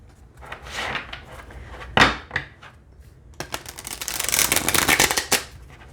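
Thick Starchild Tarot cards are shuffled in several bursts of riffling and flapping, with a sharp knock partway through, close and fairly loud.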